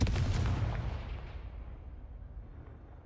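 A Confringo blast spell fires in Hogwarts Legacy: one loud, close explosive boom right at the start that rolls off into a long fading rumble, heard alone without talk.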